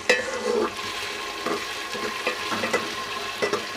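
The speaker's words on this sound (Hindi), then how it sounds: "अच्छे से चम्मच हिलाते रहे ताकि ये नीचे ना लगे और जले ना।" A spoon stirs tomatoes in a pot over low heat for a chicken and potato shorba, with intermittent scrapes and clinks against the metal over a gentle sizzle, close and unaccompanied by talk.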